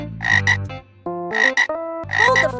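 A frog croaking in a garden, three loud, close bursts of throaty, ribbed croaks separated by short pauses, alone without talk.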